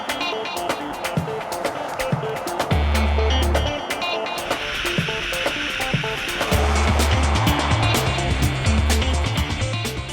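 A Range Rover engine rumbles low while the car is driven, with scattered clicks and knocks from the cabin and road and a deeper drone that swells in two bursts.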